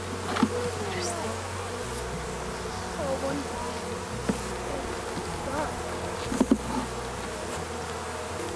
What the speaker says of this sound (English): the hive was just boiling with bees